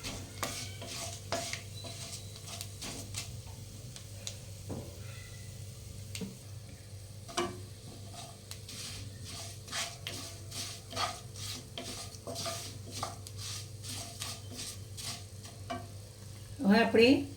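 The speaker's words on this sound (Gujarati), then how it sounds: "મિક્સ કરી અને સાંતળશું." Carom seeds and spices stirred in hot oil in a pan for a Kathiawadi stuffed papad curry, with a steady low sizzle under repeated scraping clicks of a spoon, and a louder clatter near the end.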